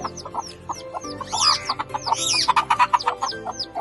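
Several chickens in an earth-floored enclosed coop cluck and squawk in quick, overlapping bursts, loud and close, with a busier rising flurry midway and no talk.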